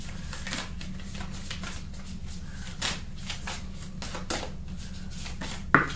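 Tarot cards being shuffled by hand: a steady, close papery riffling and scuffing that runs throughout, with a few sharper taps and snaps, and no talking.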